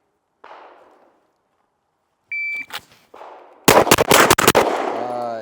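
Gunfire during a timed cold start shooting drill: a faint thump, then a timer beep, followed by a few sharp shots and a rapid burst of loud, close cracks with ringing echo.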